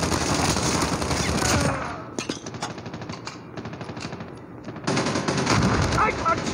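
Sustained machine gun fire in the video game Call of Duty rattles in fast, loud bursts, drops back to lighter scattered shots in the middle, then surges again with heavy continuous fire.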